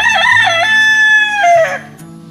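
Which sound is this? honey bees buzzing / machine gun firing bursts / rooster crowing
rooster crowing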